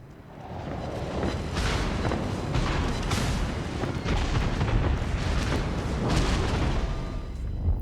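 Warship guns fire at the California in World of Warships: Legends, including a Bismarck's secondary batteries, a dense run of heavy booms and blasts rolling continuously with repeated thumps over a rumbling sea-battle background.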